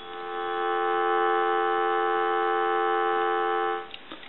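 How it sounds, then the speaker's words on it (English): Steady telephone dial tone from an Empress desk touch-tone phone under repair, a continuous even hum heard close and loud for nearly four seconds before cutting off, followed by faint clicks. "Give you some dial tone."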